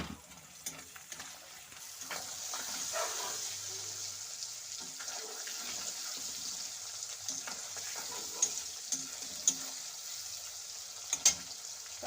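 Chopped onion and tomato frying in a pan for hotel-style egg curry, giving a steady, fairly quiet hiss of sizzling oil with occasional stirring clicks and scrapes.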